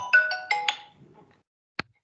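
A phone plays a short run of bright, melodic beeps while a call is being placed, then goes quiet before a single faint click.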